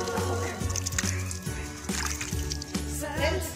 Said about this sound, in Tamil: ஒரு தடவை வந்து இந்த இலையை நம்ம அலசி எடுத்துக்கலாம்